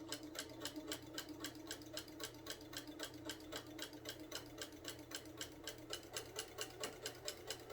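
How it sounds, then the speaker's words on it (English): A sewing machine back stitches and then sews through a homemade rag quilt, a fast, even mechanical rattle of needle strokes running steadily, close and fairly quiet. "Do some back stitching here at the beginning. Go ahead and sew through it."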